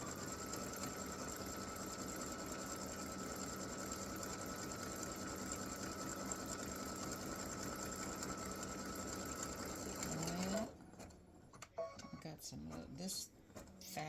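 A sewing machine stitches a gnome applique on ravelly fabric for a Christmas gnome design, running steadily for about ten seconds before stopping, followed by quieter handling sounds and brief talk.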